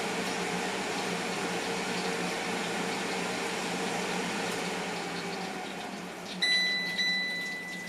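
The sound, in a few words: chicken wings cooking in a Philips Airfryer XL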